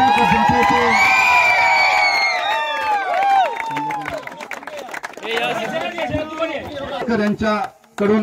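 Crowd at a village cricket tournament prize ceremony in Kokan breaks into loud cheering and shouting with clapping, a dense near roar that eases then surges again toward the end, with voices throughout.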